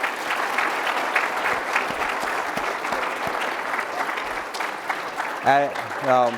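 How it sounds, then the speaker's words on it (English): An audience at a Pro Football Hall of Fame event claps for a 2022 inductee, a steady crowd-wide patter of hands that carries on for several seconds before a voice begins speaking near the end. "Let's give him a round of applause for being here today."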